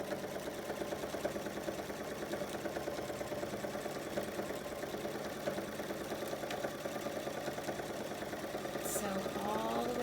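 A sewing machine runs steadily while stitching down the length of a pocket, a continuous even mechanical whir with a rapid needle pulse throughout, under faint background sound.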